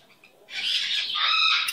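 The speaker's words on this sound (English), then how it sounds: "What a clever bird." A pet bird gives a short, harsh squawk rising into a chirping call, loud and close, after banging on a bell.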